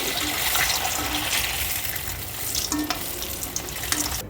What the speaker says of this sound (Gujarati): અમારા અંડા હવે અમે ફ્રાય કરીશું. જો અમારા અંડા મસ્ત ફ્રાય થશે.